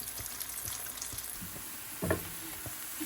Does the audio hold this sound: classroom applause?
no